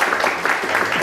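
An audience at a Bangalore branch professional seminar claps in a dense, sustained burst of applause for the speaker, CA Sumeet Khurana. The applause is fairly loud and even and carries no voices.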